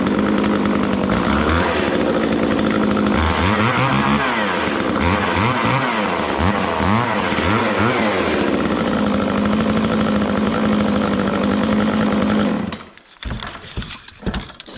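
An Echo CS 3400 chainsaw runs after priming, a loud, buzzing two-stroke engine with wavering revs in the middle, holding steady before cutting out abruptly near the end, leaving brief clatter.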